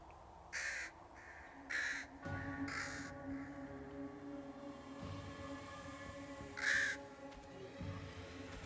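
Crow caws from the trailer for the Kickstarter video game Crowsworn: four loud, separate cawing calls at uneven intervals over a low droning, string-like musical bed, with no speech.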